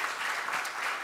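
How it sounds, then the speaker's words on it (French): An audience at a conference on sustainable African cities claps steadily, a dense, even patter of applause heard at moderate distance for a brief moment. "Je voudrais vous prier d'applaudir à nouveau nos deux intervenants"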